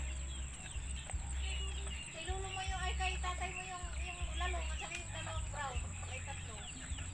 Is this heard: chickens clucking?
yes